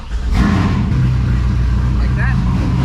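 A C5 Corvette idles steadily up close with max AC and its compressor running, a loud even engine drone with a faint whine and brief noises on top.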